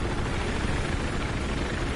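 A helicopter flying in Battlefield 4 makes a constant, loud rotor and turbine roar with a steady pulsing texture, close and uninterrupted, with no talk over it.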